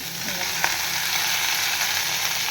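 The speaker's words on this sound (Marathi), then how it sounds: "हे बघा, आता ह्याच्यावर आपल्याला घालायची आहे ही शेपू आणि पालकची भाजी" Dill and spinach greens drop into hot oil and fry with a steady, close sizzle and a brief stirring clatter early on, no voices present.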